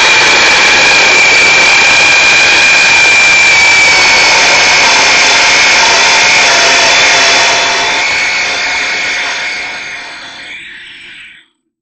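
A loud Worx WG322 25cm (10-inch) brushed electric chainsaw, an entry-level model, whines steadily at high pitch for several seconds, then winds down and stops.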